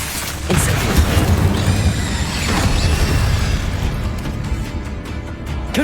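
A fire spell bursts into a loud, rolling blast in Hogwarts Legacy, a sustained roaring crackle that swells over a second and fades into a dull rumbling tail.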